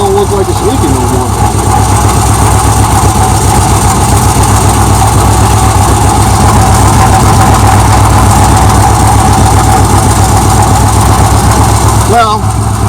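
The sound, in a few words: 1978 Chevrolet El Camino engine idling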